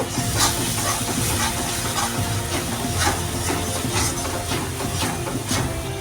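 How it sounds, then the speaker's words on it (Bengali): Onion frying in a pan with ginger, garlic and green chili paste for a potato curry served with Mughlai paratha: a steady loud sizzling hiss with faint intermittent scraping, and no speech. "এখন দিয়ে দিচ্ছি আদা রসুন কাঁচা লঙ্কা পেস্ট সমস্ত উপকরণগুলো খুব ভালো করে আবার কষিয়ে নেব"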